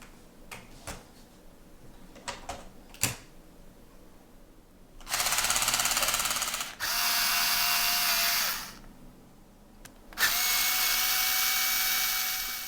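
Power driver working a set screw on an RC car shock during a rebuild, a few sharp clicks first, then two long steady whirring bursts with a short pause and a third burst, close and loud with no talk.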